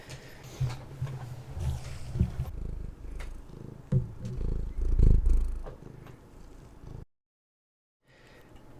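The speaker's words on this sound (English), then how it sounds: "There's a cat bumping into the microphone." A cat purrs right against a microphone, a close, rumbling low purr broken by heavy thumps and brushing bumps, then a brief dropout of silence before the sound returns.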